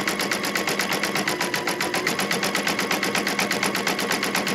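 An embroidery machine stitches on its own, a fast, even mechanical chatter of needle strokes that runs steadily and fairly loud throughout, with no voices.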